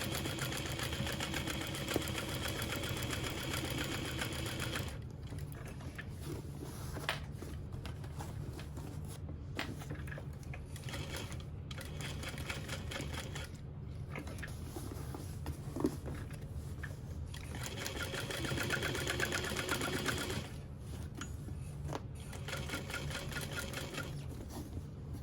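A sewing machine stitches binding close to the edge of a barrel bag, a low steady mechanical hum with rhythmic needle ticking that comes in bursts and pauses across a long stretch, moderately quiet and close.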